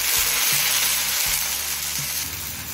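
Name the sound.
frying taro stolons (loti) in a pan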